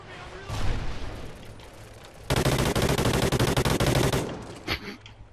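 Automatic gunfire in a video game, scattered shots at first and then a loud sustained rapid burst, with voices talking over parts of it.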